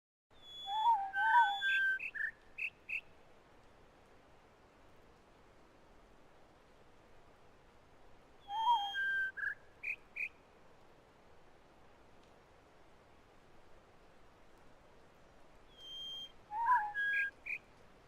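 An owl call in The Witness video game: three short groups of whistled hoots and chirps, spaced several seconds apart, fairly faint over a steady background hiss.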